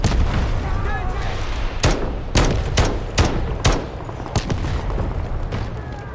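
Machine gun firing in the video game Delta Force Black Hawk Down, a string of sharp, loud reports spaced roughly half a second apart over a rumbling battle background.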